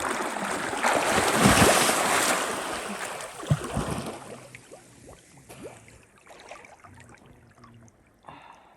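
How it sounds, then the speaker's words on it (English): River water flowing past a canyon cliff dwelling in Bears Ears: a broad rushing wash, loudest at first, easing to a softer, gurgling flow with scattered splashes, heard outdoors with no talk. "The river flows by this cliff dwelling."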